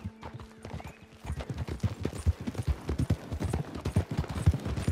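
Steady clip-clop of several horses' hooves trotting in the video game Red Dead Redemption 2, with a whinny near the start and a low ambient hum underneath; no talking.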